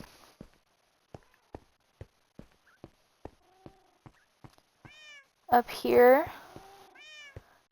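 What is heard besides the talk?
cats meowing in Minecraft video game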